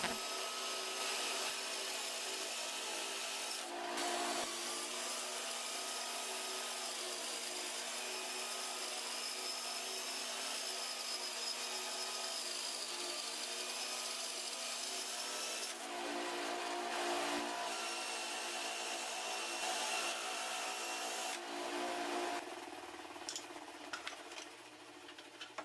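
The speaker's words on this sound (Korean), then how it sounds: "D톱을 이용해서 약 8mm 두께로 켜줍니다." A power saw rips camphor wood into boards about 8 mm thick, a steady high whining cut held nearly unbroken, with brief dips as the blade eases between passes.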